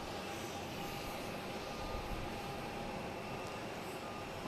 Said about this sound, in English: Oh, it's over the runway now.